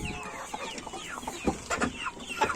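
Leghorn hens and a rooster cluck in a farmyard, with a scatter of close, irregular clucks and short squawks from a small flock and no voices.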